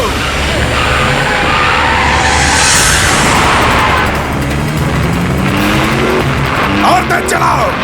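A car roars away at speed in a movie chase scene, its engine revving loud and close with rushing road noise and tire sounds throughout, mixed with dramatic background score.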